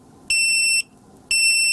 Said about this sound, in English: I get the 1S cell alarm, which is great.